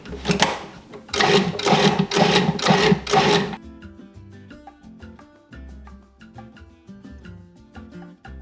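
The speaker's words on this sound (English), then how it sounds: "I just finished pulsing my cilantro, my jalapeno, my garlic cloves, and my onion in my food processor" Food processor pulsing cilantro, jalapeno, garlic cloves and onion: four loud, close motor bursts about half a second long in a quick row, then quiet rattling and clinks as the blade stops.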